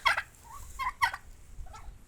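A turkey gobbles in quick bursts, three rattling calls close by with a softer trailing one, otherwise quiet.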